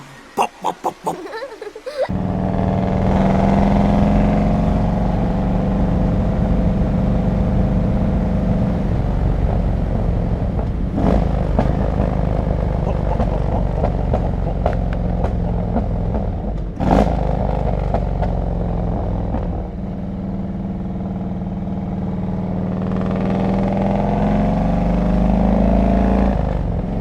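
Harley Road King Classic motorcycle with 39in fishtail exhausts, a loud close engine rumble and revving while riding, with occasional sharp pops and clatter and engine noise easing and rising again.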